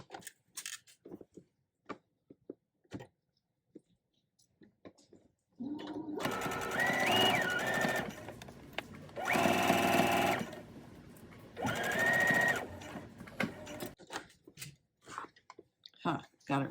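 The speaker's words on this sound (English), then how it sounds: "Once again, I need one more stitch to get my seam allowance right." A sewing machine stitches a hoodie seam in three loud whirring runs after a quiet stretch of small clicks and handling, with a person talking at the start and between bursts.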